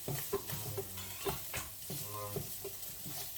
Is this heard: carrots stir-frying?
yes